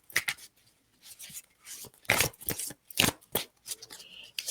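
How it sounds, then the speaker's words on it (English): Tarot cards are shuffled by hand, giving repeated crisp riffling and slapping bursts at an uneven rhythm, close and fairly loud, with short quiet gaps between. "So I'm just going to shuffle the cards."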